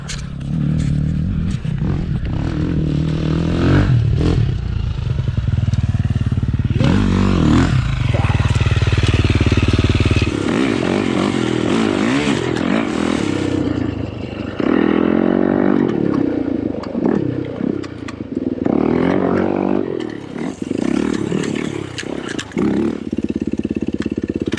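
Motorcycle ride on a sunny day: a loud engine drone that rises and falls with acceleration and gear changes, with wind rush and rattling clatter close to the rider, lasting throughout.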